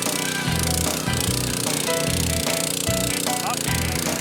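A power auger with an extension bores a post hole into soil, its motor droning loudly and steadily with a rhythmic pulsing as the bit churns downward.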